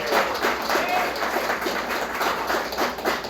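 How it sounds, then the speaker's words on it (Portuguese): A church congregation applauds together, a dense, steady wash of clapping that carries on without a break. "Pode dar uma salva de palmas por isso?"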